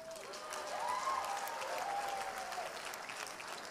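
A large audience at a live comedy show in Warri claps steadily and evenly at moderate volume, with no voices on top.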